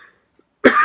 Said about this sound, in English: it's making me kind of cough or something